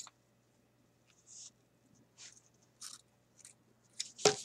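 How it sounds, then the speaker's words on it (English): Sharp scissors snip fabric in a quiet room, a few short crisp cuts spaced unevenly, faint and close, with a louder final snip and no talk. "Sharper scissors out here."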